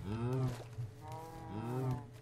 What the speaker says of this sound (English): now we find cows, Jake.